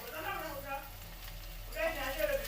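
Tempeh sizzling in a small amount of frying oil in a pan, a steady close crackle with a speaking voice over it at times.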